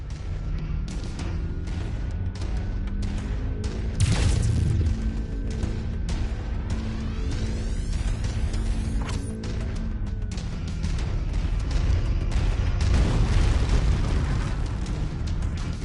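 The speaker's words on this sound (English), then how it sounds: "Lasers are mapped to Weapon Group 2. Fire them when ready." Mech lasers firing in a video game, a dense barrage of repeated sharp bursts and booming impacts over a constant loud roar, some blasts louder than others, with no voices.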